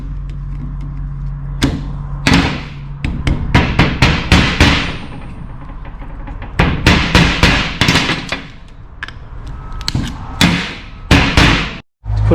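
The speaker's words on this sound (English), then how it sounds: "hammer it down." Sharp metallic hammer blows ring out close by while a CV shaft is fitted on a 2007 Toyota Hilux, coming in irregular bursts of rapid strikes with short pauses between them.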